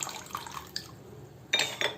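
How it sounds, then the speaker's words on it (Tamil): Lemon water is poured into a glass of homemade carrot juice with ice cubes, giving a soft liquid trickle followed by a couple of brighter splashing drips near the end. "அதோட நம்ம கொஞ்சம் லெமன் தண்ணி ஊற்றிக்கலாம்."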